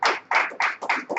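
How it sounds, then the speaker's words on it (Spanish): A church congregation applauding: bursts of hand clapping in uneven waves, loud and close, with brief dips between surges and no talking. "denle un fuerte aplauso"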